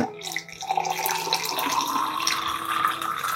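Water poured into a glass holding a spoonful of collagen powder, a steady close splashing fill lasting a few seconds with no talk.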